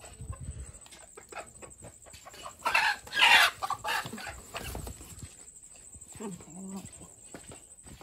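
Chickens cluck and squawk around a rural coop, a loud flurry of calls in the middle amid scattered nearby clucks, with a steady high electrical whine throughout and occasional talk.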